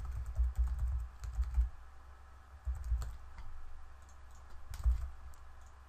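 Credit card details tapped out on a computer keyboard: quiet, close clusters of quick key clicks in short bursts separated by brief pauses, with no talking.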